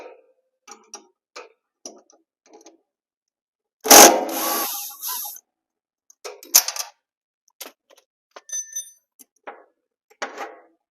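An impact gun removes the nut and bolt from the clutch plate of a Muck-truck during a drive belt replacement. It gives one loud, close rattling burst of about a second and a half, surrounded by quiet ticks and tool handling.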